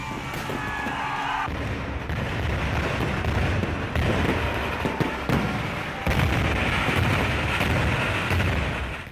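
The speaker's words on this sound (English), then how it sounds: "The stash of the fireworks exploded in a cascade" A stash of fireworks goes off in a rolling cascade of bangs, crackles and booms, loud and continuous for about nine seconds with no talking.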